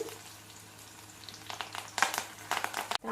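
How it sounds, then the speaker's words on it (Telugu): Curry leaves dropped into a tempering of onions and chillies in oil: a low steady sizzle at first, then a few louder bursts of spitting crackle near the end. "కొంచెం వేగినాక కరివేపాకు వేసుకోండి"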